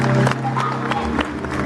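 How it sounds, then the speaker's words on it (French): At a school show by third-year pupils, an audience breaks into brief, loud applause and crowd noise, with music playing underneath the clapping. "Les applaudir bien fort."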